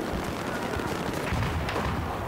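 Heavy explosive fire in the video game Battlefield 4 forms a continuous loud rumble of shots and blasts, close and unbroken, with no clear gaps between impacts.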